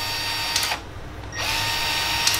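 A Milwaukee M12 Uponor expansion tool expands PEX pipe with a steady, loud motor whine that briefly dips, then resumes at full strength. The sound is close up, with no talking.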